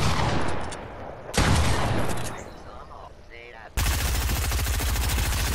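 Loud pump shotgun blasts in the Fortnite video game crack out in separate shots, each with a booming decay, then give way to a dense, rapid burst of gunfire.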